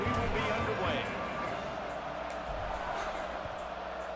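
A stadium crowd at a Boise State at Fresno State college football game, heard as a steady, loud, broad roar from start to end, with someone talking close over it.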